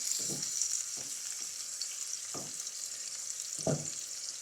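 Marinated chicken pieces frying in a karahi on high flame, giving a steady loud sizzle throughout with a few low thuds from stirring or turning.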